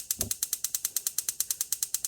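A gas stove burner being turned on for cooking green beans, heard as a rapid, even ticking of the igniter clicking about eight times a second, close and crisp, with no voices.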